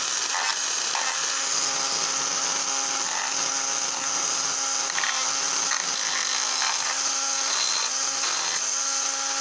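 Handheld Drill Master power tool running steadily and close, its motor whine held at a constant pitch throughout while work is done on Norfolk & Western passenger railcars.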